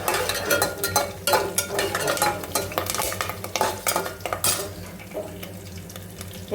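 Chana dal, urad dal and curry leaves frying in a pan, with a steady close crackle broken by repeated bursts of stirring and scraping, and no talk over it.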